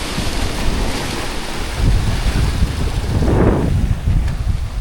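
Wind and surf at a small beach on Trinidad's north coast near Fort Abercromby: a steady roar of gusting wind buffets the microphone while breaking waves swell and wash in twice, with no voices.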